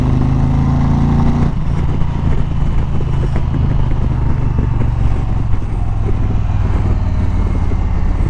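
An Indian Challenger motorcycle accelerates hard, its engine note climbing and then holding a loud, steady drone mixed with heavy wind rush, heard close from the rider's position.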